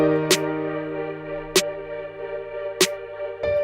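Drum machine snare and snap pattern in an up-tempo R&B beat: three sharp, crisp hits spaced evenly over sustained tonal chords, with a fourth softer hit at the end, no voices.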